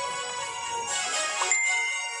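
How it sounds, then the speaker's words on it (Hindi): A phone notification chime rings out clearly as a short bright ding with a ringing tail, fairly soft and heard alone without speech. "तभी उसके फोन में एक नोटिफिकेशन आया"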